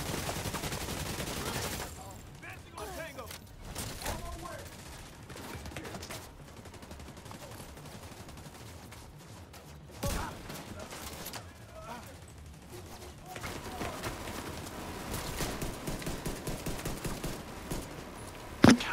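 Gunfire from a video game as players shoot at waves of enemies in a Legendary match on the National Zoo map, bursts of rapid shots recurring throughout, mixed with game sounds and players talking.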